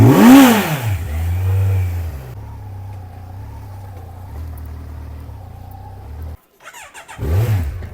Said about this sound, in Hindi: इसको थोड़ी देर न्यूट्रल पर छोड़कर इंजन को कर देते हैं प्री हीट